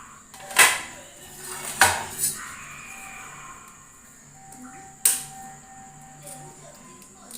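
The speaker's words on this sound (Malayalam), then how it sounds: "പാത്രത്തിലോട്ട് നമുക്ക് മുട്ട പൊട്ടിച്ചൊഴിക്കണം കേട്ടോ" Eggs being cracked into a bowl in a home kitchen, heard as three sharp shell taps and clinks against the bowl, spaced about a second apart and then one more later, close and fairly clear over low room hum.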